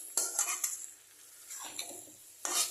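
Potatoes stirred into a pot of chicken curry, giving faint close metal clinks and scrapes of a spoon against the pot in a few short bursts, with a soft sizzle underneath and no talk.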